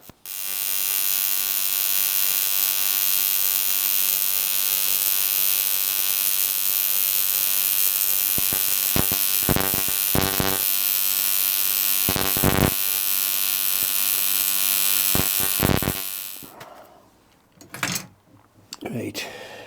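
TIG welder on AC welding magnesium alloy, a continuous steady buzzing hum for about fifteen seconds with brief crackles, then stopping into quiet handling sounds.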